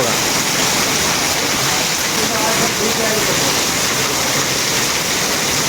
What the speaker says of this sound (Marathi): हे बघा पावसाचा आवाज बघा तुम्ही, किती खतरनाक आहे.